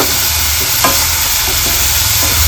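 Curry leaves and half a tomato are stirred in a hot pan for a stuffed chicken dish. A loud, steady sizzle runs throughout, with a few soft scrapes of the spoon.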